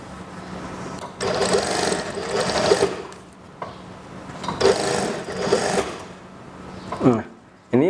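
A sewing machine stitches a seam on a junior high school skirt with a plain waistband, running in several loud bursts of rapid whirring separated by short pauses, with a faint voice now and then.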